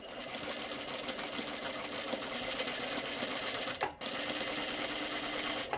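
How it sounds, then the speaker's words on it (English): A sewing machine stitching a channel in a crinoline hoop skirt, a steady close rapid mechanical hum with a brief pause near the end before it resumes. "First channel is stitched and I'm just moving on."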